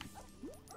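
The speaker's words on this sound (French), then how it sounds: "Ah oui, c'est le chien là." A dog-like creature in a Lego Harry Potter video game gives a short bark with a rising whine, brief and close, amid quiet game ambience.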